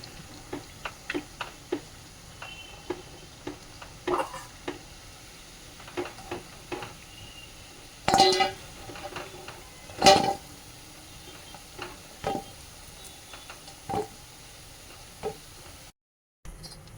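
Fried sweets are lifted out of hot oil in a pan, a spoon tapping and clinking against the metal in scattered light knocks over a faint, steady sizzle.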